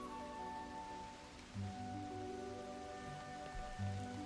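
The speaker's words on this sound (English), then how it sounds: "Dark clouds above. Could be in for rain." Rain falls in a Xenoblade Chronicles 3 game scene as a soft, steady hiss beneath tonal game ambience and music, fairly quiet throughout.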